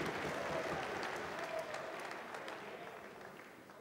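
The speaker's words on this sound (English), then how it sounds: "You can hear the crowd responding to that action." A crowd at a Polaris grappling match applauds and cheers, a broad roar of clapping and voices that starts full and slowly fades, heard at a moderate distance.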